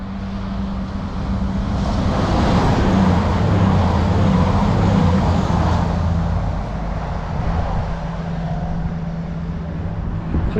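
A Class 222 diesel train, unit 222008, at East Midlands Parkway station, a steady rumbling roar that holds close and loud and then eases slightly, with wind noise around it.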